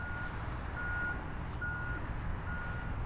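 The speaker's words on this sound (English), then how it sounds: "There's a beeping sound" A vehicle's reversing alarm beeps at a steady, regular rhythm over a constant low engine rumble, moderately distant.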